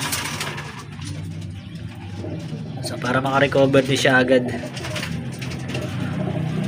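Racing pigeon at a fun race in Urdaneta, Pangasinan, cooing softly in a bird loft area while someone talks over it, with low background rumble throughout.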